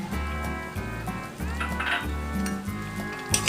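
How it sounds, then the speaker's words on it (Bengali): Chopped ginger sizzling in a pan while being stirred for dalia upma, broken wheat cooking, with a steady low frying hiss and a few light scraping clinks of a spoon against the pan, moderately close. "আবার এটা নেড়ে দিলাম যাতে আদাটাও বেশ ভালো মতো ভাজা ভাজা হয়ে যায়।"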